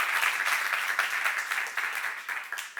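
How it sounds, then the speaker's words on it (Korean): Church congregation applauding during a sermon, a dense steady wash of many hands clapping for nearly three seconds, fairly loud and fading slightly toward the end. "박수 하세요."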